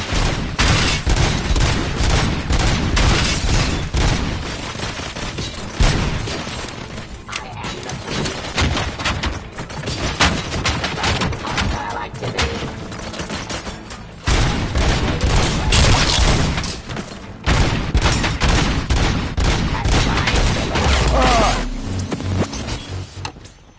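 Loud, sustained gunfire fills a RoboCop: Rogue City shootout, with dense bursts of shots and booms continuing almost without break and dipping only briefly a few times.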